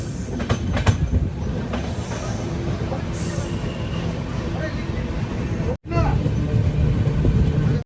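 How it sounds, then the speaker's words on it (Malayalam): Samata Express rolls into Bagbahra railway station, its wheels rumbling steadily with faint squeals and clatter heard from on board, then a brief dropout before the rumble resumes, with faint voices present. "ഛത്തീസ്ഗഡിലെ ഈ ട്രെയിനിൻ്റെ ആദ്യത്തെ സ്റ്റോപ്പായ ബാഗ് ബഹ്റ."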